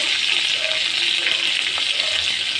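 Curry leaves and mustard seeds fry in hot oil for a Tamil raw banana poriyal, a steady close hiss and crackle with faint pops scattered through, with no voice over it.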